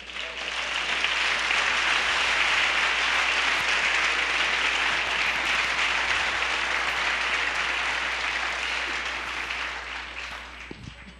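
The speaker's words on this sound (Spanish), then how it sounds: "Puedes darle un fuerte aplauso." Loud, sustained applause from a church congregation fills the whole stretch, dense and steady, then thins slightly near the end.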